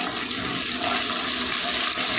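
Curry leaves crackling and sizzling in hot oil while frying for a garlic egg curry, a steady, loud, continuous hiss throughout.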